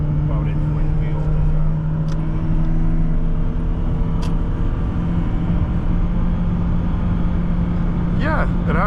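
A 2015 Toyota Prius V driving and accelerating, a steady engine and road drone heard from inside the cabin, with people talking over it.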